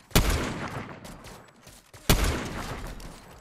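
Two loud, sharp gunshots in a Fortnite match, spaced about two seconds apart, each trailing off into a reverberant tail, with no talking.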